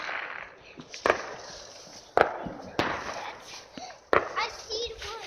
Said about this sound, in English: There is fireworks right now.